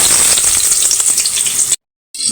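Onions frying in a hot pot on a stove, a loud close steady sizzle that cuts off abruptly to silence, then resumes briefly.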